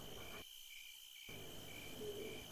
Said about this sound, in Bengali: ঝিঝি পোকাদের ডাক আজ খুব আগ্রহ নিয়ে শুনছি।